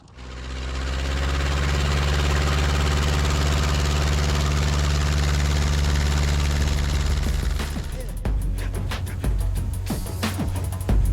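Small airplane engine running steadily on the ground while taxiing at a rural California airstrip, a loud close throbbing drone that cuts abruptly near the end, leaving bumps and rattles.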